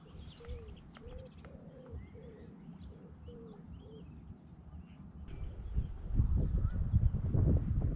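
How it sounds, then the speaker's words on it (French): Birds call and coo by the Meuse river, soft chirps and repeated cooing notes, with a rising rumble of background noise toward the end. "on n'entend plus rien, que les oiseaux chanter"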